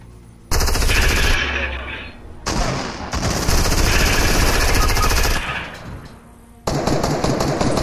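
Sustained rapid P90 automatic fire in the video game Fortnite, loud and close, in long continuous bursts separated by brief pauses, with a final burst at the end.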